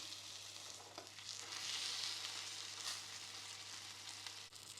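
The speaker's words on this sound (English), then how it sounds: "see if we can give some on the edges here. Sear the edges." A tomahawk steak's edges sear in a hot pan with a steady, loud sizzle and frying crackle, close up and continuous with no talking.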